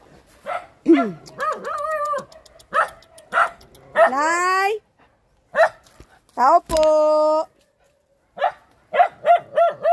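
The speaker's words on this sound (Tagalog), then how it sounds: "andyan na naman po yung aso" A dog barks repeatedly nearby in sharp, irregular bursts with some yelping, while people shout and talk between the barks.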